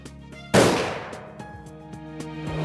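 A single loud rifle shot fired at a bull elk on a high-altitude hunt cracks sharply, then rolls away in a long fading echo across open terrain, with no voices.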